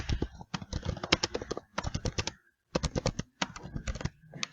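Typing on a computer keyboard, close and clear, in quick bursts of key clicks separated by brief pauses, with no talking over it.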